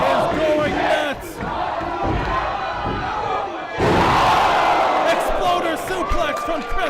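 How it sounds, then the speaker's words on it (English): A wrestling crowd at an indoor show roars and cheers loudly in waves. It swells into a big surge partway through, while commentators talk over the noise. "And the crowd is going nuts."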